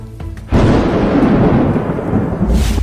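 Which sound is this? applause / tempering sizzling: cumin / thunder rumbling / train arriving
thunder rumbling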